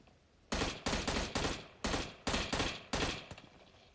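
Gunshots in the mobile battle-royale game PUBG Mobile, about eight loud, sharp close-range reports fired in quick uneven bursts, each cracking then decaying, with no voices.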